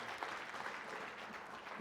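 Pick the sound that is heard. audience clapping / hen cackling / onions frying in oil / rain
audience clapping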